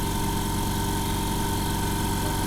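A Hyundai HY7524 Super Silent air compressor running, a steady, even motor drone with a low, regular pulsing hum, close and continuous with no voices.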